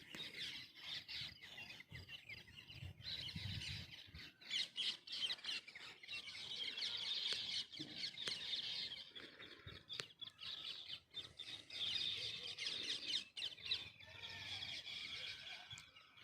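Dense, continuous high-pitched squealing and chirping from a flock of parrots in a tree, steady and fairly distant, with no voices.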